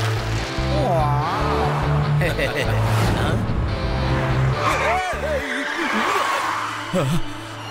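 Cartoon auto rickshaws racing each other: a loud, continuous revving engine drone with squealing tires and skids, mixed with animated voices and effects.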